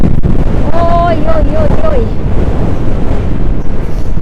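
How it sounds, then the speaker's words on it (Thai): Strong wind on the coast at Kjerringøy near Bodø, Norway, roars loudly and without a break against the microphone, while a person lets out a drawn-out wailing exclamation early on. "ลมมากเลย"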